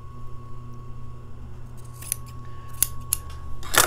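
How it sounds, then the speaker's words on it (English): Scissors cut through seat cushion fabric, a few sharp close snips that grow louder toward the end, heard over a low steady hum with no talking. "I follow it with my scissors"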